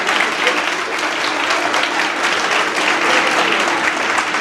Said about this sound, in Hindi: मैं चाहता हूँ कि जितने खादमीन यहाँ पर आए हैं, हम सब उनके लिए भी तालियां बजाएंगे